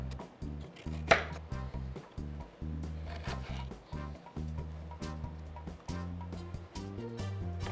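A knife chops a carrot into rounds on a board in a long run of steady, rhythmic thuds, close and fairly quiet, with one brighter clack early on.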